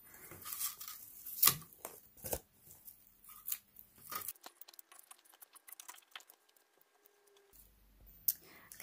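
Scissors trim rustic farmhouse fall decor material to size in a series of sparse, crisp snips and rustles, close up and separated by quiet gaps.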